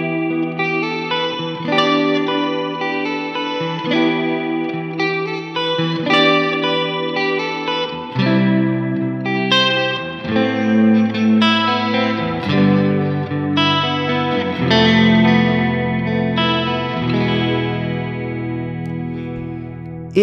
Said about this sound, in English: It's like you're adding a chorus, in a sense, on top of the reverb.